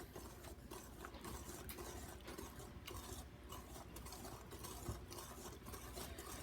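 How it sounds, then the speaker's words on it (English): Steady rhythmic scraping of a whisk stirring chocolate pecan pie filling with Nesquik powder in a bowl, a continuous close mechanical clatter with no talk. "continue whisking until everything is well incorporated"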